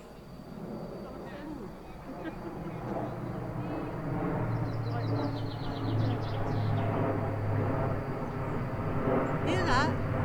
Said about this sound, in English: That could be my plane coming to land.